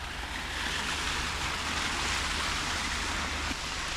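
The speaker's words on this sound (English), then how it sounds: "It's a straight waterfall." Waterfall plunging straight down at an outdoor spot in Greece, a steady, loud broadband rush of falling water that fills the whole clip without a break, with no voices heard.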